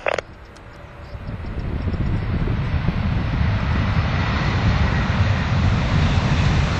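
An airliner takes off from runway 05 left at Manchester, its engine roar building from a faint rumble to a broad, sustained roar after a brief sharp click at the start.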